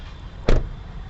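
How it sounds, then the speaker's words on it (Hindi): A 2019 Ford Figo door swings shut with a single solid, heavy thud, close and loud, over a low steady background hum. "फोर्ड का ये चीज़ काफ़ी कस्टमर को भाता है, दैट्स दरवाज़ा का थर्ड जो है वो बहुत सेटिस्फाइंग फील होता है"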